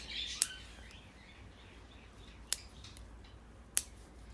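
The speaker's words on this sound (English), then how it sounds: "So you can see if I go through it, trim back slowly, everything, just trim it back." Scissors trimming a Chinese elm bonsai make three sharp, isolated snips spaced a second or more apart, close and crisp over a quiet room with faint bird chirps.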